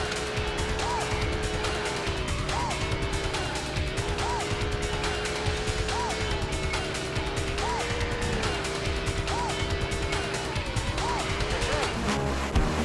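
Cars race in the Scud Race arcade game, engines droning with repeating rising revs and gear shifts, tire squeals, and a busy, loud mix of game sound throughout.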